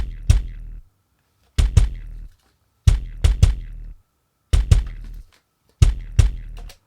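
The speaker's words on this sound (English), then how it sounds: "we created this massive kick sound out of a stomp sample, a typewriter sample, and this explosion-like sound" A heavy layered kick pattern repeats in short bursts, each hit built from stomp, typewriter and explosion samples, combining a deep thump with sharp clacky transients and a booming tail.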